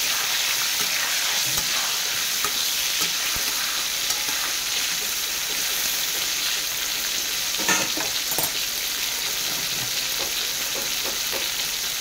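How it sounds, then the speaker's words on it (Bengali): Pointed gourd (potol) frying in a pan with oil, a continuous bright sizzle with small crackles and a few stirring scrapes, close and steady throughout. "পটলটা এক পিঠ ভাজা হয়ে গেছে"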